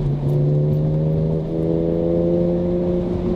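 A BMW Z4 M Coupe engine pulls steadily with a smooth, droning note that climbs gradually, heard from inside the car at close range, loud and continuous with no talking.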